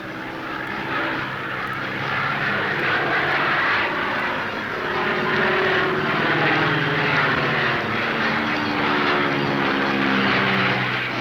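Light aircraft engines, including a Cessna's, drone steadily through a 1964 Australian air race, a continuous propeller hum that swells slightly and never pauses.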